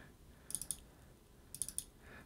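Computer mouse double-clicking while editing photos in Lightroom, two quiet, close pairs of crisp clicks about a second apart over faint room noise.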